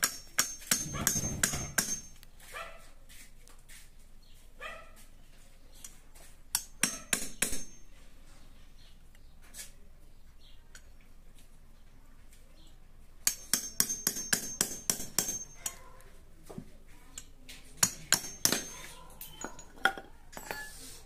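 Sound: hammer striking to remove an oil seal

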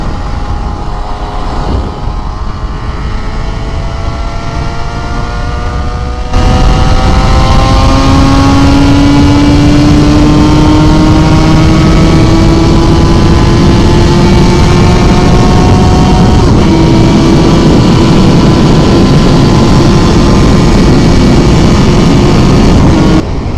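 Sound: motorcycle engine revving high

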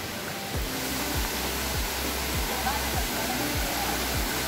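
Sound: waterfall on trek to Kondhana Caves

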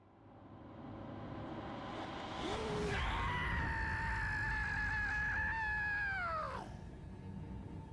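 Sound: enemy screaming in the video game Shadow of War

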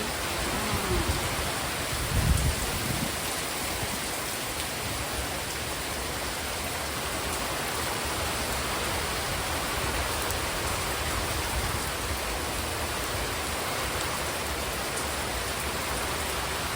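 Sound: heavy rain falling

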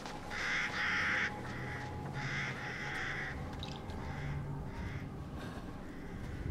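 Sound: crow cawing in video game Resident Evil Village

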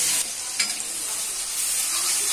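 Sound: onion and garlic frying in a pan

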